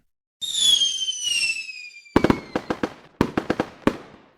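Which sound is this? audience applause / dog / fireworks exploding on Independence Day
fireworks exploding on Independence Day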